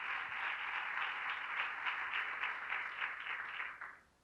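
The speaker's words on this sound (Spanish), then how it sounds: "¿Cuánto le pueden dar un aplauso al Señor?" A church congregation claps at a service, giving a sustained, even burst of applause that holds for about four seconds before cutting off sharply.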